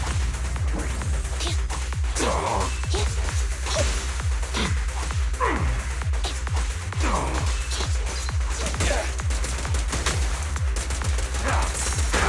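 Rapid gunfire in the action game Zenless Zone Zero, a dense stream of sharp shots with percussive impacts and combat effects running steadily throughout, loud and busy.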